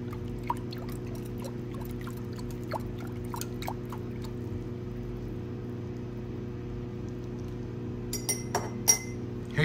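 Electrolyte being stirred in a silver refining cell, with light glassy clinks and small liquid sounds over a steady low hum, growing busier near the end.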